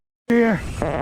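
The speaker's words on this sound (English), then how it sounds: "That was a fart." A single loud, close fart bursts out after a moment of silence with a buzzy, falling tone, followed immediately by a short spoken word.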